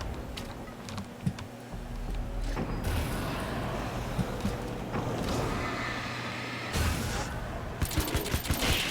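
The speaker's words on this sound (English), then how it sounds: "The nail gun is a lot cooler." A video-game nail gun fires in long rapid-fire bursts, a rattling stream of sharp mechanical shots that starts, pauses and starts again, loud and close.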